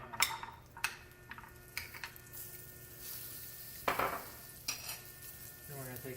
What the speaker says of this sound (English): Then we're going to take our carrots and put those into our pan.